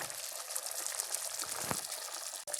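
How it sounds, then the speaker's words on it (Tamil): Pepper curry with bitter gourd (milagu kuzhambu) boils hard in a pot, giving a continuous close bubbling hiss with a few louder pops. No one speaks. "பாருங்கள் நல்லா கொதிச்சாச்சு."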